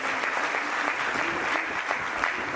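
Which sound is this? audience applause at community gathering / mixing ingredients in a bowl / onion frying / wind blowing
audience applause at community gathering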